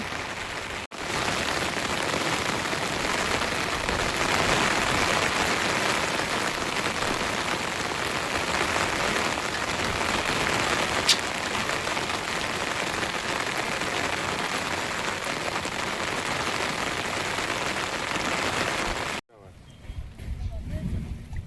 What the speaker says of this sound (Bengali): এখানে বৃষ্টি বিলাসে মত্ত